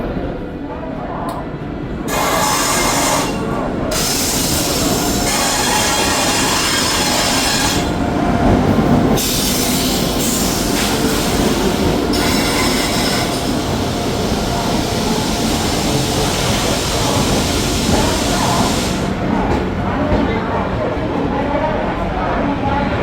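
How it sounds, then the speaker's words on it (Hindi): A double-decker AC train pulls into Lucknow station with loud rolling wheels, rail clatter and intermittent high wheel squeal, steady throughout, while people talk nearby on the platform. "डिपार्चर होने के टाइम पे अराइव हो रहा है अपनी ट्रेन का यहाँ पे लखनऊ से"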